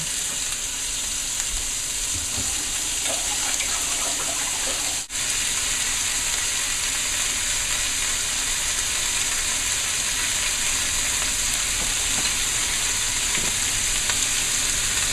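Lobster tails sizzle steadily, meat side down, in a hot pan on a stovetop, a dense continuous frying hiss with small crackles and one brief dip partway through, close up with no talking.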